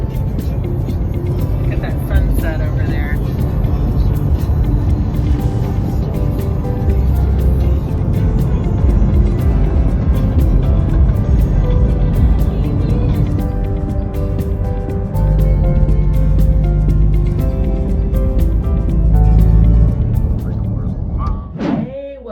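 Steady low rumble of a car driving on the road toward Orlando at sunset, a continuous interior road drone with a voice talking over it throughout.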